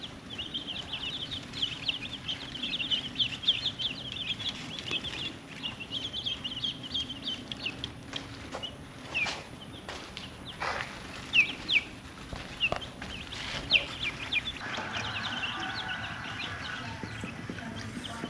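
Chicks and ducklings in a homemade brooder peep constantly with high, rapid chirps, with occasional rustling and soft thumps nearby and no voices.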